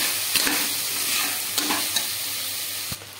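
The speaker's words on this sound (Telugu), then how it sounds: "ఆలు పీసెస్ బాగా ఫ్రై అయ్యి" Potato pieces sizzle steadily as they fry in a pan. A spoon scrapes and clinks against the metal in a few separate strokes, and no voices are heard.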